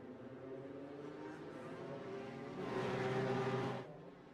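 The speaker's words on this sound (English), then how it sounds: "The safety car will be pulling off very shortly. We're heading out on the formation lap." Race cars roll through a formation lap on an oval in a racing video game, a steady faint engine drone that swells louder for a moment as cars pass close, then drops back.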